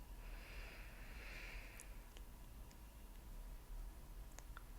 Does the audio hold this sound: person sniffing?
yes